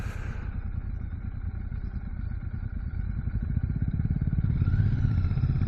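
A Royal Enfield Shotgun 650 parallel-twin motorcycle engine rumbles close by with a steady low throb that grows slightly louder toward the end, no voices.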